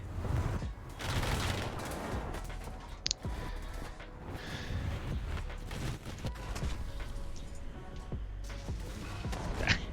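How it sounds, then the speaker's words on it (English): Gunfire and an artillery barrage in a tank battle video game, with dense overlapping shots and booming blasts rolling continuously under intermittent talk. "The enemy is preparing for artillery barrage."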